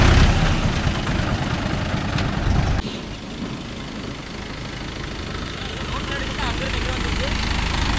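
A Mahindra Yuvo Tech Plus 585 shuttle gear 4WD tractor engine runs with a steady low rumble close by, dropping slightly in level partway through and then holding even.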